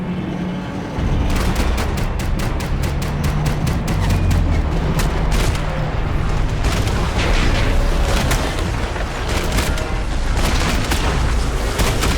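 Sustained loud gunfire from a firefight in Max Payne 3, dense rapid shots and booming impacts layered over a constant heavy rumble, with no pause for the whole stretch.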